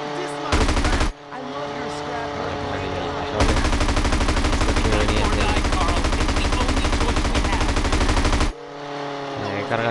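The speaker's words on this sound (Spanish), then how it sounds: "Cuidado con los disparos." Long bursts of rapid automatic gunfire in Grand Theft Auto: San Andreas (PS4), loud and continuous, with a short break early on and an abrupt stop near the end.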